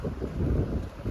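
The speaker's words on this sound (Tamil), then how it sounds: "அட காற்று சூப்பராக இருக்குது" Wind blowing outdoors at a pre-wedding photoshoot location, a rough, low rumbling gust pressing against the microphone in uneven surges, with no voices.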